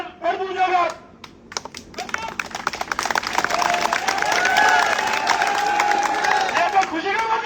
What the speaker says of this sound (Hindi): आप ताली मत बजाइए